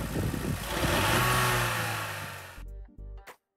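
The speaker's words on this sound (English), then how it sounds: "So this is what the car sounds like right now" A stock, unmodified turbocharged car revs up, its engine rising to a loud, strained roar that holds and then slowly falls away. Engine noise cuts out and sputters near the end, with no talking.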